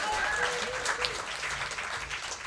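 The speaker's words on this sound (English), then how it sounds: "You can applaud for him again." Audience applauding a blues harmonica player at a harmonica symposium during a New Orleans funk festival, a dense wash of clapping heard at a moderate distance, with brief voices mixed in.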